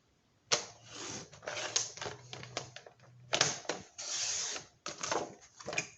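Cardstock for a scrapbook pop-up birthday card being cut into strips on a paper trimmer, a series of close, dry slicing and clicking strokes in quick bursts with short pauses between.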